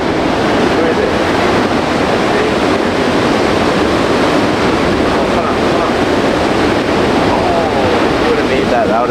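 Surf rolls in at Pipeline on Hawaii's North Shore, a loud, constant wash of breaking waves and churning whitewater mixed with strong wind buffeting the microphone.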